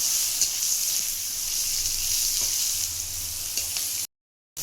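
Tomatoes, chilli, turmeric and five-spice seeds sizzle steadily in hot oil, with a bright continuous frying hiss and faint scrapes of stirring running throughout, then a brief cut to silence near the end.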